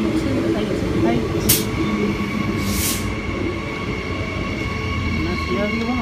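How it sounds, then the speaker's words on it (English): A Brisbane suburban electric train, SMU 288 leading the front half, arrives at Morningside Station platform 2. A steady rail rumble runs throughout, with sharp bursts of wheel or brake squeal and people talking faintly nearby. "train now arriving to platform 2"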